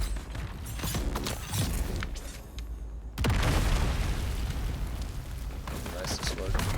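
A loud blast in the video game Dune: Awakening erupts about three seconds in, a broad booming burst with rumbling debris that stays dense afterward, preceded by clanking mechanical creaks and game noise.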